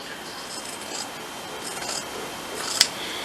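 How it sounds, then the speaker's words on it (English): Scissors slicing across fabric scraps while sewing strapless shirts, a soft continuous rasping cut with a brief sharp snip near the end, close and fairly quiet with no talk. "Cut across all the way."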